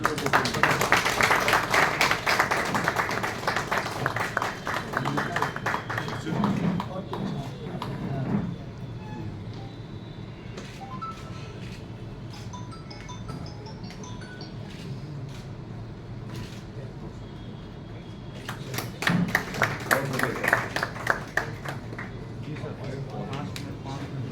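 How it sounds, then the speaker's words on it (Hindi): A group of people clapping at a media gathering in Patna about building the AIIMS hospital in Darbhanga, with a dense burst of applause at the start and another later, and people talking throughout. "आप लोग ताली बजाते हैं"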